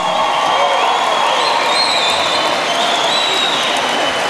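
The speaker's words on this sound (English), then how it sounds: "can we please have a round of applause for these two female warriors?" A crowd at a corporate boxing fight night applauds and cheers two female boxers after three rounds, steady loud clapping with some whistles throughout.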